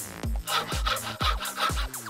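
A hand saw cuts through sturdy wooden planks in steady back-and-forth strokes, about four close, loud rasping passes with no talking.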